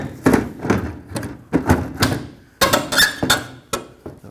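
A Ford F-150 taillight assembly being twisted clockwise to lock in place, close plastic squeaks and creaking scrapes in repeated short strokes, fairly loud, with no talking.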